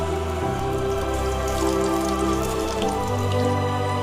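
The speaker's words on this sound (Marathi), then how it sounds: "तेल चांगले तापल्यावर थोड्या थोड्या भजा सोडा" Methi bhaji, fenugreek-leaf fritters, frying in hot oil, giving a steady, close, crackling sizzle with dense popping bubbles throughout and no talking.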